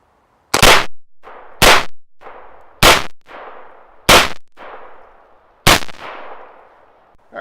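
Five loud pistol shots from a CZ P10C, each followed by a ringing clang off steel training targets, spaced roughly a second apart with the ring decaying between them.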